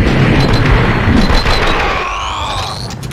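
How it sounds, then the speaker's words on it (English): Video game gunfire from Max Payne 2 comes as loud, dense bursts of booming shots over rumbling noise. It thins out toward the end as whistling, sweeping effects rise. "Someone must have heard the gunfire."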